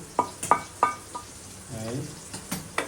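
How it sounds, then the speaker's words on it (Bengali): Prawns fry dry in a pan with a soft sizzle as a utensil scrapes and knocks against the pan in several sharp strokes, with a voice briefly heard between stirs. "এই যে দেখেন কত সুন্দরে চিংড়ি গুলা ভাজা হয়েছে"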